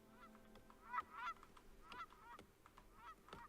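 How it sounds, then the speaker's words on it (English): A flock of geese honks in a Farthest Frontier village-building game, with several distinct nasal honks spread irregularly over a soft ambient game background. "A V of geese. Is it a skein of geese?"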